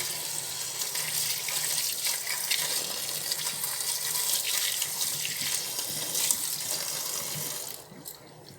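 Kitchen tap gushing steadily over brahmi greens being rinsed by hand, a continuous splashing hiss of water at moderate distance that cuts off near the end, with no voices.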